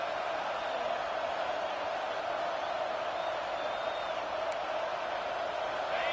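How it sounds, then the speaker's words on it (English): Stadium crowd at a college football game, a steady wash of roaring noise that holds at an even level throughout, with faint whoops rising out of it. "This crowd ready to make its presence known."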